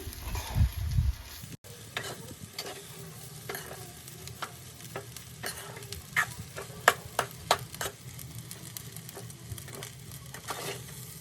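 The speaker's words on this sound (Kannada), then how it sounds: "ಬಾಸುಮತಿ ರೈಸ್ನ ಹಾಕೊಂಡು ಮಿಕ್ಸ್ ಮಾಡ್ಕೊಳ್ತೀನಿ" Basmati rice for egg rice is tossed and stirred in a hot pan, with a dull knock at the start, then a steady run of close scraping clicks over a faint sizzle and no talking.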